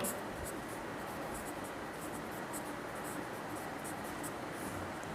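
Pen or pencil scratching steadily across paper while fractions are written out during a Class 8 maths worksheet lesson, a continuous close hiss with no distinct pauses.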